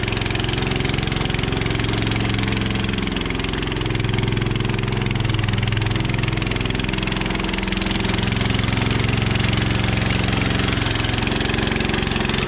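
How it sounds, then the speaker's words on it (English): A motor runs steadily and loudly during a basement concrete floor pour in new construction, a constant mid-pitched engine drone with no break and no voices. "If you hear that motor bog down, that means that's nice and hard right there"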